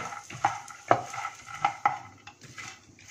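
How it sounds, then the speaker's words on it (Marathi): Peanuts, dried coconut, roasted gram dal, curry leaves and garlic are dry roasted in a pan, giving scattered spoon scrapes and clinks against the metal in an irregular rhythm, close and fairly quiet, with no voices. "शेंगदाणे भाजत आल्यानंतर यामध्ये सुकं खोबरं ॲड करायचं आणि त्यानंतर फुटाणा डाळ आणि नंतर कढीपत्ता आणि लसूण असं एक एक करत या पद्धतीने ॲड करत हे मसाले आता उरलेले आपण भाजून घेऊया"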